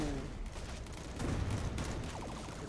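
Gunfire from a pistol in a plants-at-war cowboy video game crackles in a quick, faint burst of shots mixed with game effects, no speech.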